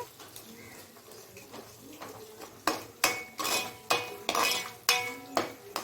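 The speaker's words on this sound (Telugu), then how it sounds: "అది కూడా పచ్చివాసన పోయే వరకు మిక్స్ చేయండి" A utensil scrapes and stirs ginger garlic paste in a cooking pan for fish curry, starting as soft scraping and turning into louder, regular strokes roughly every half second, close by.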